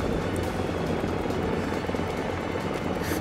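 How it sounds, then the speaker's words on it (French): A helicopter in a military video game gives a dense, continuous rotor roar and whine, loud and steady throughout, with no speech over it. "j'entends rien avec l'hélico"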